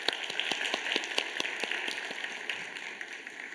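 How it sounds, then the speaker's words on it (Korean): A church congregation at a youth worship service applauds together, a steady dense patter of many hands clapping at moderate distance with no voices over it. "우리 감사와 우리 하나님께 영광의 박수 올려드리도록 하겠습니다"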